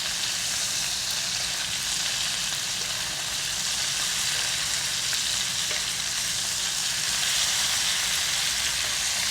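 Thin pieces of veal scallopini fry in a pan with a steady, loud, even sizzle and close crackling spatter from start to finish, with no speech over it.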